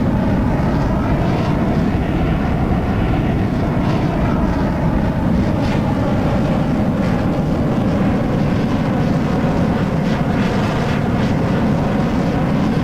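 Jet engine of an F-104 Starfighter in a flight video game, a steady, loud broadband roar that drones on without a break for the whole stretch, with no talk over it.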